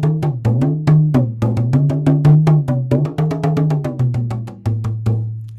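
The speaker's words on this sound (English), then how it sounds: "when you take the dundun and you squeeze it, it changes the pitch of the head." A dundun talking drum struck in a quick rhythm of about twenty hits, its pitch bending up and down as the drum is squeezed, played loud and close with no talking.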